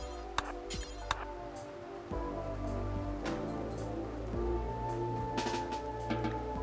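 Steady rain falls in the video game RimWorld, a continuous wash of drops with occasional sharper patters, mid-level and unbroken under faint game tones.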